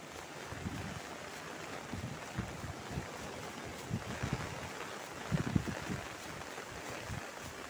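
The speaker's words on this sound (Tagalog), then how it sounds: "Super hangin kasi." Strong wind buffets the microphone in a constant roar during a typhoon signal 8 in Hong Kong, with water and waves sloshing beneath and occasional louder gusts.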